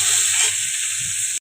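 Potatoes sizzle in a frying pan, a steady close hiss that runs without a break for the whole moment and has no talking over it.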